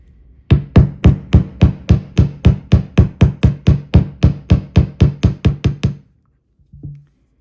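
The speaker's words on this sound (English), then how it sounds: "we're back after all the bashing and the hammering" Hammering flattens the ends of beading wire earring hoops: about twenty sharp, evenly spaced metallic strikes in a steady rapid rhythm, close and loud, followed by a brief pause and one softer knock.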